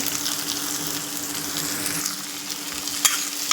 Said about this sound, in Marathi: मस्त असा कांदा परतून घ्यायचा आता कलर बदलपर्यंत